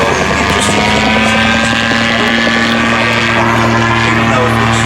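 A gyrocopter flies at the Midland Air Festival, a loud, steady engine drone with a strong low hum and a propeller buzz that stays close and constant while a voice talks over it.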